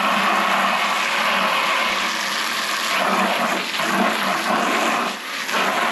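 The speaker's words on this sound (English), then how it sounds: "Just rinse the tank in the section that I'm going to clean first." Water rinses the inside of a farm milk tank, a steady broadband hiss and splash that carries on throughout, close and loud, with brief surging changes near the end.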